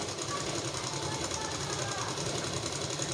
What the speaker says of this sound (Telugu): నిదానంగా కుట్టండి.